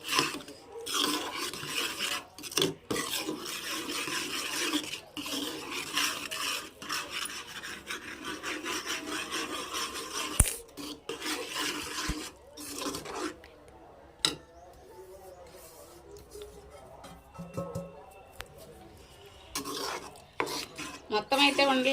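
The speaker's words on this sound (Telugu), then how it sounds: "శనగపిండి సాఫ్ట్గా మొత్తం కలిసేటట్టు అయితే కలుపుకుంటున్నాను" Gram flour is worked into hot sugar syrup for Mysore pak, giving a long, steady run of rough scraping and rubbing from a spoon against the pan, with brief pauses and occasional light metallic clinks.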